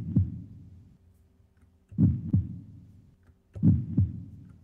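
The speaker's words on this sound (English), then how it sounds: "Yes, it's a heartbeat" A heartbeat plays in slow, clear double thumps, three lub-dub pairs about a second and a half apart, deep and soft against near silence.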